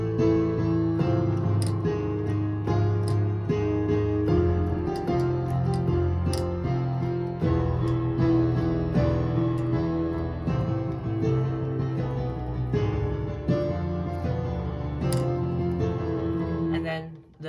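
Piano plays the FNaF Movie intro with all four parts together, a steady layered melody over sustained chords, close and clear without talk.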